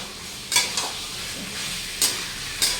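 Tomatoes frying in plenty of oil for vegetable biryani, with salt added, give a steady close sizzle broken by four sharp scrapes of stirring spread across the moment.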